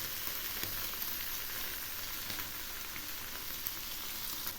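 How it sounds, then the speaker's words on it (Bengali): Small mourola fish frying in a shallow layer of oil, a dense, even sizzle that crackles steadily throughout at close range. "মাছগুলো আরও কিছুক্ষণ ভাজা হবে।"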